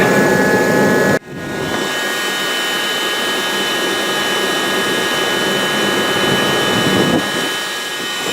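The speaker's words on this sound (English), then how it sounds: "we're outside in the cold and the wind is whipping here, as you can hear" Strong, cold wind whips across the microphone outdoors during well pump wiring work, a loud, steady broadband roar that drops briefly near the start and then blows on without a break.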